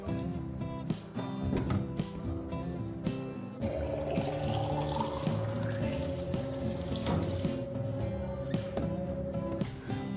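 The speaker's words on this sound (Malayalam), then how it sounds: "വെള്ളം കുപ്പിയില്ലേ ഒന്ന് ഫില്ല് ചെയ്തിട്ട് നമ്മൾ ബാഗിൽ വെച്ചോ" A water bottle fills from a running household tap, a steady close stream of water that rises in pitch as the bottle fills, lasting several seconds.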